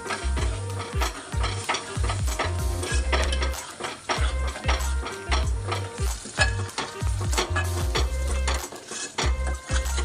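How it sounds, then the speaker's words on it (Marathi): Ground masala paste sautéing in a pan for Kolhapuri chicken, with a continuous sizzle and rapid repeated metal spatula scrapes and clinks against the pan, loud and close. "याला चांगला व्यवस्थित परतून घेऊ."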